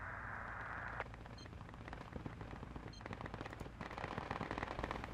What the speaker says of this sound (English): artillery firing.